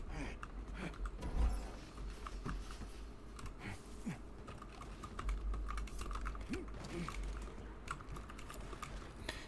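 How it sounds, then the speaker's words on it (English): A computer keyboard and mouse are in use during a game session, giving fairly faint, rapid, irregular clacking taps and clicks that run throughout over a low background hum. "You can probably hear my keyboard and mouse."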